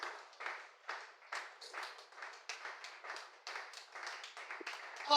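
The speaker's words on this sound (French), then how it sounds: "Nous acclamons la parole de Dieu." A church congregation applauds with rhythmic, pulsing claps that rise and fall in waves, heard fairly close and without speech.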